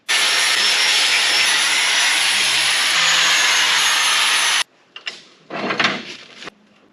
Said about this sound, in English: I'll clean this up with a grinder